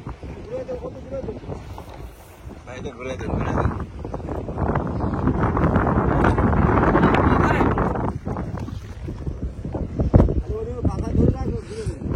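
Strong storm wind buffets a small river ferry boat, a loud roaring rush that swells and fades under a voice.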